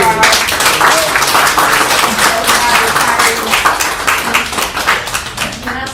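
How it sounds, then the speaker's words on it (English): An audience at a Port Allen city council meeting applauds in a dense, sustained wash of clapping that thins out near the end, with a few voices mixed in. "All right, another round of applause."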